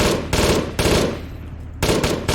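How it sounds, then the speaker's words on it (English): MG3 machine gun fired from a vehicle's gunner seat in Arma 3, three loud sustained bursts of rapid automatic fire separated by short pauses. "We've got a gunner seat, which shoots MG3"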